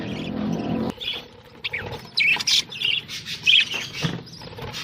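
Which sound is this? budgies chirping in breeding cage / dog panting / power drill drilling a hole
budgies chirping in breeding cage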